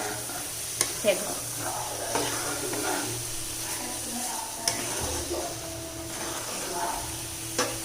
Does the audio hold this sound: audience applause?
no